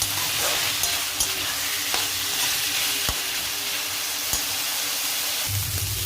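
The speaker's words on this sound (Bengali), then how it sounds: "এবার এই মোচাগুলো দিয়ে দেবো এতে। এটা ভালো করে মিক্স করে নেবো।" Banana flower stirred and fried in a cooked spice paste in oil for a Bengali mochar ghonto, a steady close sizzle with a few sharp scrapes of a spoon against the pan.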